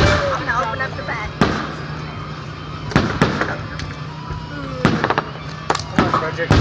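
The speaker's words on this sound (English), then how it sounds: "watch my firework" Homemade fireworks bursting at a marina at night: sharp bangs and pops at irregular intervals over a steady low hum, with people talking throughout.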